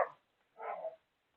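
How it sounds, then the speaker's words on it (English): Dogs barking in the background indoors, two short muffled barks about half a second apart, faint and distant with no talking over them. "I apologize for the barking in the background."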